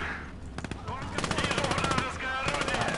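Machine gun fire in a Russian close-combat war video game, rapid bursts of repeated shots running almost continuously at close range, with voices talking over the gunfire.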